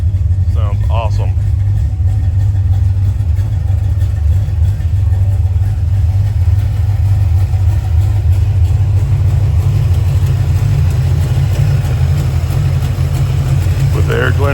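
A 1990 Ford Mustang Fox body V8 fitted with a new FST RT Plus four-barrel carburetor idles steadily with a loud, deep, lumpy rumble, close up and continuous throughout.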